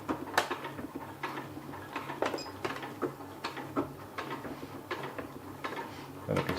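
Sewing machine stitching a rolled hem in silpoly fabric, close and fairly quiet, with irregular clicking and ticking mechanical taps over a low steady hum.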